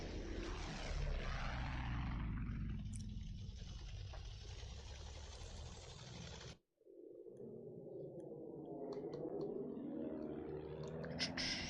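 In a Battlefield-style Xbox One conquest match, a heavy bomber's propeller engines drone loudly and continuously nearby. The roar cuts out abruptly for a moment, then returns with a rising and falling Doppler sweep. No speech is heard.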